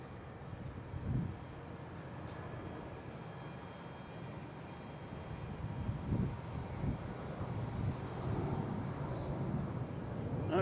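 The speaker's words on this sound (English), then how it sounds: "Emirates passing in review. Like all good A350 should do here." An Emirates Airbus A350 airliner passes at Boston Logan Airport, a low broad jet rumble building gradually and swelling louder toward the end, with light wind noise throughout.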